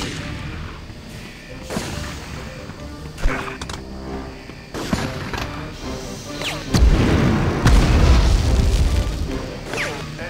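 A grenade explosion in the 1999 PS1 game Medal of Honor lands as a heavy, rumbling boom late in the stretch, following scattered thuds and gunfire-like knocks in the game's battle noise.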